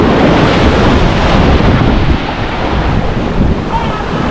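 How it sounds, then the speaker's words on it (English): Sea waves surge and splash high up against the shore at St. Thomas, Jamaica, loud and close, with a churning roar that eases slightly partway through and is buffeted by wind on the microphone. "the water is literally splashing all the way up"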